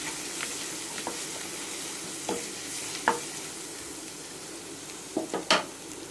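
A tomato curry base fries in a pan with a quiet, continuous sizzle, punctuated by scattered spoon scrapes and taps that grow more frequent toward the end, close by and without talk.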